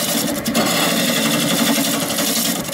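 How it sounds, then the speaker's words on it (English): A wood lathe bogging down during a cut gives a loud, rough, laboring rumble with rapid chattering pulses, continuous for a few seconds. "Stalling the lathe."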